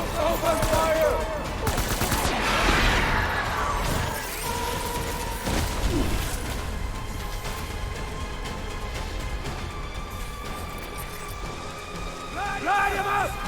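Gunfire rattles through a Death Stranding battle, dense bursts of automatic shots and cracks layered over rain-like hiss and crashing debris, loud and continuous, with shouted voices mixed in.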